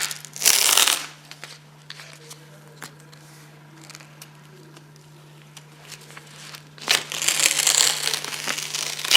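Adhesive strapping tape pulled and laid around an ankle over the outer malleolus, two loud tearing, crinkling bursts at the start and end, with quieter rustling and handling of tape in between, close by, no speech.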